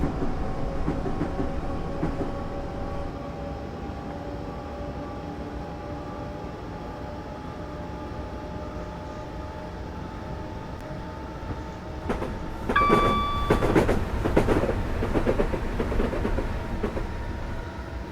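Steady rumbling drone of a third rail electric train running in Train Simulator 2020, with a constant hum and faint tonal whine, then a brief burst of clatter and short ringing tones near the end; no talking.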